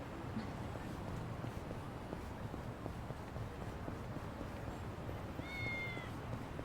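In Yakuza: Like a Dragon, a cat gives a single brief meow late on, moderately clear above a constant low ambient game hum, with faint ticking sounds scattered throughout.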